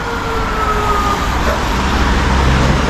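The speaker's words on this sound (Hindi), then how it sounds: "एम्बुलेंस है पुलिस।" A wailing ambulance and police siren rises and falls faintly within heavy, loud traffic noise on a rainy Dushanbe street, the road roar dominating throughout.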